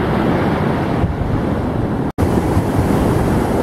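Ocean waves rolling onto a shell-strewn beach where shark teeth are hunted, a loud, steady rush of surf mixed with wind buffeting the microphone, broken by one very brief dropout.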